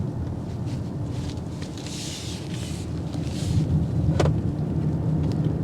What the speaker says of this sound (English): With these upgraded wheels, you will start hearing some road noise filter in.